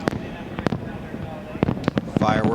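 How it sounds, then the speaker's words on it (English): Fireworks go off at the Daytona race track after the 2008 Coke Zero 400 finish, with scattered sharp bangs and pops at irregular intervals, some sharper than others, mixed with crowd and broadcast noise. "Fireworks going off. Had fireworks on the track on the last lap."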